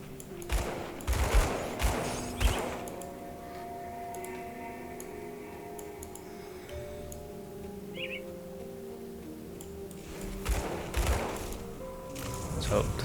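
Gunfire in the video game Grim Dawn, bursts of sharp repeated shots clustered near the start and again near the end, with a quieter stretch between and someone talking over it.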